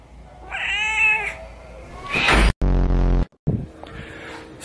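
A house cat gives a few drawn-out, tuneful meows with rising and falling pitch, close and fairly loud, broken by brief gaps and some scuffing noise.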